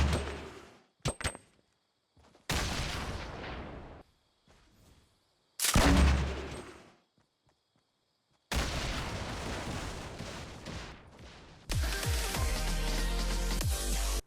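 Gunfire from Fortnite, as shots break apart building ramps: short bursts and booming impacts separated by near silence, then longer sustained stretches of rapid firing and crumbling noise toward the end.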